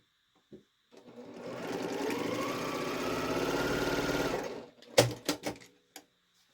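A sewing machine stitching quilt pieces together for a scrappy star block, running steadily for about four seconds close by, followed by a few sharp clicks and handling knocks, with no talking.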